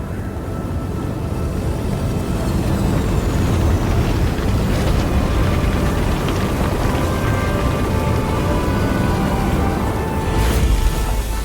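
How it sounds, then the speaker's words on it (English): A spaceship's engine in the video game Star Citizen winds down after landing: a loud, dense rumble with a hissing roar, steady throughout, with a high tone that slowly falls. "from the landing gear setting down to the way the engine winds down"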